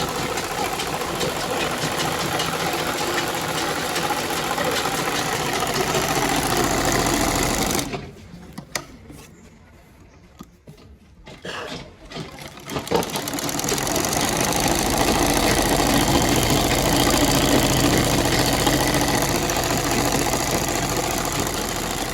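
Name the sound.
sewing machine stitching a dress sleeve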